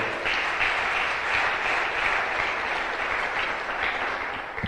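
Steady, loud applause from a church congregation for the King of Kings, dense clapping sustained evenly with no voices on top.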